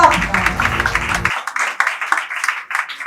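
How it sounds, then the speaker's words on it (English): Audience clapping at a talk, a burst of applause that fades out early while a person speaks over it and keeps talking through the rest. "Please celebrate it, clap"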